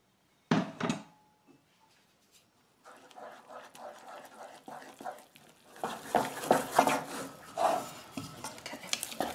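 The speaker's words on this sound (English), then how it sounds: "we're going to put in our flour all in one go and really quickly we're going to stir it" Flour is stirred quickly into hot choux paste in a pan. A sharp clatter comes first, then a pause, then scraping and knocking strokes that grow louder and busier toward the end. The sound is close and unvoiced.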